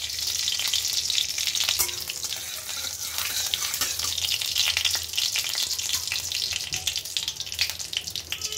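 Panch phoron five-spice sizzles in a hot pan for amla pickle, a loud crackling fry with stirring scrapes throughout, no voices.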